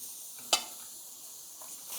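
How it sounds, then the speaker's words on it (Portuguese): Lamb spine searing in a pan makes a quiet, steady sizzle, with one sharp spatter or clink near the start and a swell of hiss at the end. "Vamos selar bastante esse lado aqui."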